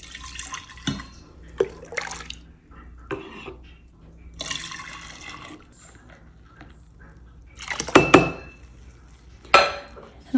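Homemade cleaning liquid poured into a half-gallon container, intermittent splashing and trickling bursts with small plastic knocks, louder pours near the end.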